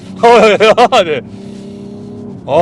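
A BMW M340i in sport mode runs with a low, steady engine drone beneath a burst of loud talking, then continues alone at an even pitch before speech resumes.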